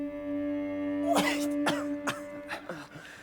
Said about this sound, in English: Can't you see he's coughing?